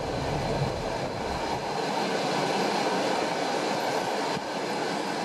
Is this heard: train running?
yes